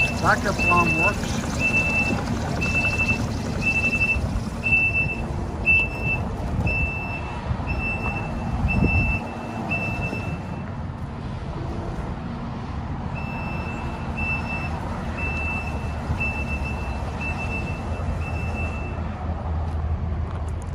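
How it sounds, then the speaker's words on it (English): Repeated high-pitched backup alarm beeps from a 2023 Kubota SVL97-2 track loader in steady groups, over a constant engine rumble and outdoor machinery noise; a brief pause in the middle before the beeping resumes. "Backup alarm works."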